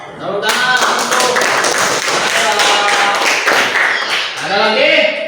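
Children in a classroom clap their hands together in a loud, close burst of quick claps lasting several seconds, with young voices calling out over and around the clapping.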